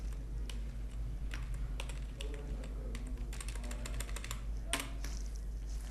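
Computer keyboard keys pressed during a copy-and-paste coding session, a scattered series of crisp clicks and quick bursts of typing, close and fairly quiet, with no talking.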